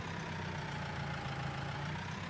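A New Holland T5 120 tractor engine in Farming Simulator 19 idles with a steady, low, droning rumble that holds even throughout, with no voices over it.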